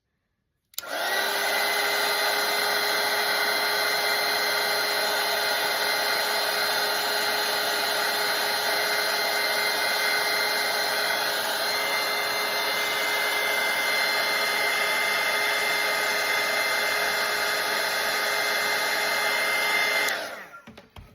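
A handheld hair dryer blows steadily on a wet watercolour painting of a flowing Canadian flag, a loud, continuous whirring roar that runs unbroken for about twenty seconds before switching off.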